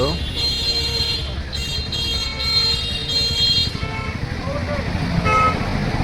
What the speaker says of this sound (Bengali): গাড়ি ঘোড়ার হর্নের শব্দ